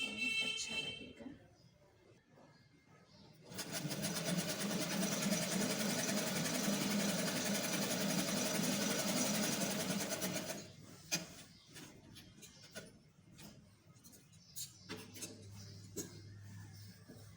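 A sewing machine stitches a trouser design in a steady, close, rhythmic whir that runs for about seven seconds. Quieter handling and rustling of fabric come before and after it.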